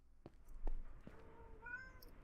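A cat in modded Minecraft lets out a single faint meow after a few soft taps, fairly quiet and alone.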